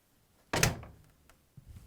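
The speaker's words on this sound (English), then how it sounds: "And now we can close the door." Front-loading door of an LG washing machine swung shut during drain hose replacement, one solid close thunk with a short rattle, followed by faint handling noises.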